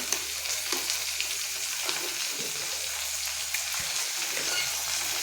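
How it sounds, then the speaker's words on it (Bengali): Cabbage and potatoes frying in a pan with cumin, ginger and green chilli, giving a steady close sizzle with occasional stirring scrapes throughout, no talking. "আমি জিরা আদা লঙ্কা দিচ্ছি, কাঁচা লঙ্কা"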